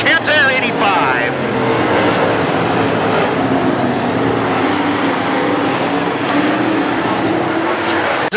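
WISSOTA late model race cars roar around the Granite City Speedway track in a loud, steady engine drone that swells slightly as the pack passes, with an announcer talking over the racing throughout.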